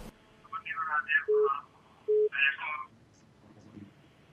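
A telephone line signal on a radio call-in show, two short electronic beeps amid faint, muffled voices over the line, followed by quiet.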